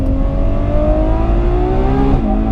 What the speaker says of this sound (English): I'm sure you can hear those gear shifts, they're explosive.